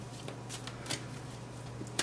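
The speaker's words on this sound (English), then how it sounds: "now that I've given this golden universal deck a shuffle" A golden universal tarot deck being shuffled, faint quick riffling snaps and soft papery flutters over a low steady hum, close and quiet.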